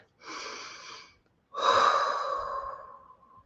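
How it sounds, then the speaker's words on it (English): A person draws in a long, deep breath through the nose and then lets out a longer, fuller exhale. Both are close and fairly soft, with no talking. "take a breath"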